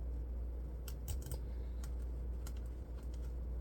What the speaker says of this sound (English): I'm just going to start the zip tie.